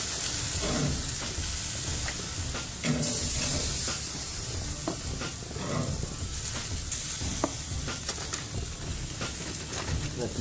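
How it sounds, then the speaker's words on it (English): Onions sizzle steadily in a hot pan for pollo asado street tacos, a constant loud frying hiss with occasional scrapes and stirs and no talking. "Let these onions cook up a little bit while I chop some meat."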